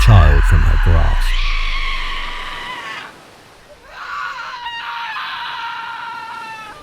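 A woman's anguished scream rises loud and strained at the start, breaking off before a second long, wavering shriek follows after a brief drop, close and harsh throughout.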